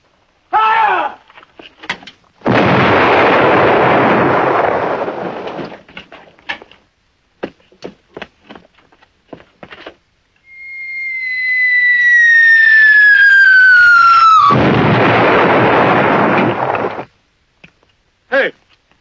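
An artillery gun in a film missile scene: two booming roars with long rumbling decay, separated by a rising then falling whistle, with brief clicks and a few commands spoken between them.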